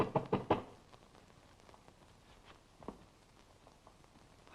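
Three or four quick, firm knocks on a door land close together at the start, followed by faint scattered taps and light movement in a quiet room.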